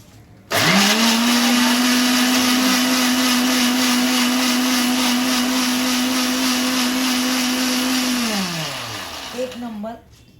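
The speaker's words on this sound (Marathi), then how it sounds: "आता ह्याला मी मिक्सरमध्ये फिरवून घेते." A kitchen mixer grinder whirs loudly and steadily for about eight seconds as it blends besan (gram flour) batter with milk, then winds down to a stop.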